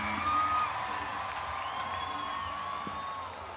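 Whoops and cheers from a crowd at a PBR Australia bull riding event in Nowra, a distant wash of voices and whistles that fades slowly.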